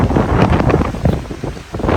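Strong gusts batter the microphone in a coastal garden in Maine, heavy buffeting rumbles, loud and close, rising and falling unevenly with no talking.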